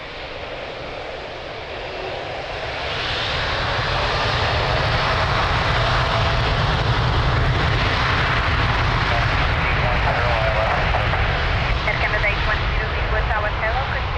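A Boeing 787 jet airliner roars on the runway at Lisbon Airport, engine noise swelling over the first few seconds into a loud, sustained rumbling thrust that continues steadily to the end.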